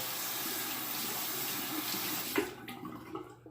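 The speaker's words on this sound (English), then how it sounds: "I'm going to rinse my hand off here" A hand rinsed under a running tap at a sink during a wet shave, a steady soft rush of water that cuts off near the end with a few drips.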